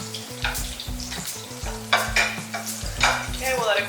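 Salmon burger patties fry in a pan with a steady crackling sizzle. Repeated scraping and stirring knocks from a utensil punctuate it, and no one speaks.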